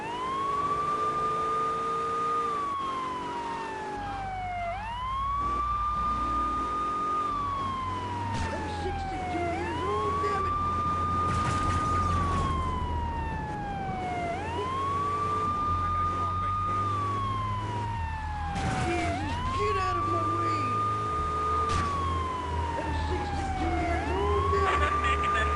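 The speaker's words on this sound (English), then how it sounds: "let's turn the siren on just because it annoys the crap out of people" A police car siren in the video game GTA 3 wails in repeated rising and falling cycles, loud and continuous over engine noise and occasional crash sounds.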